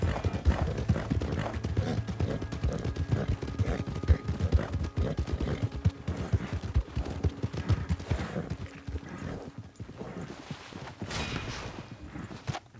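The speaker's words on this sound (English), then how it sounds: "Get that horse hidden away, Clive, and ready to move out as soon as we can" Horse hooves clip-clop steadily in the Red Dead Online video game, close and fairly loud, with a brief whinny near the end and no talking.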